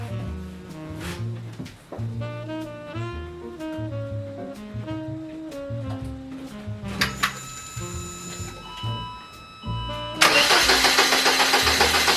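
A Saab 9-3 2.0 Turbo is cranked, its starter whirring in long strained pulses for about ten seconds, then the engine catches and roars loudly to life up close.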